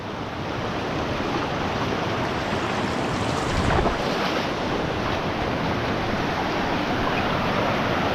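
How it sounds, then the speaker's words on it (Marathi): A flooded river rushes steadily during a heavy monsoon downpour in a village, a dense, loud roar of water and rain that holds evenly throughout with no voices. "श्रवण पाणी बघा मस्त छान वाहतंय एकदम स्वच्छ पाणी"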